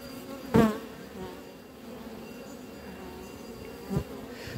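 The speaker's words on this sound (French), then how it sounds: "je vais enfumer du bas et tapoter d'en bas pour faire remonter un maximum d'abeilles" Honey bees humming faintly and steadily as a hive is smoked from below, a low continuous drone with two brief louder bumps of handling noise.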